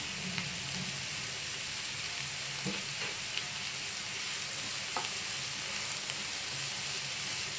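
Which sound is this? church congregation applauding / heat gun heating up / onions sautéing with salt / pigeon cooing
onions sautéing with salt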